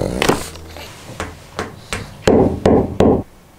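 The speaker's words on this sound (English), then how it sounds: "Hammer." Hammer striking repeatedly, about seven sharp knocks at an uneven pace, the last three louder and heavier, close by with nothing else heard.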